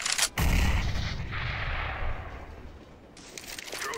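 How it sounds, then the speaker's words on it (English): A grenade detonates in CS:GO: a heavy blast opens, then a long rumbling decay with a crack near the end, loud and close. "Grenade out."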